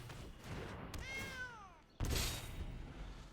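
A cat card in the digital card game MTG Arena gives a short synthetic meow with a falling pitch, followed by a sharp, bright impact effect; the game's sounds are quiet and close.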